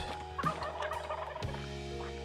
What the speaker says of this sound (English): Ooh, big old turkeys.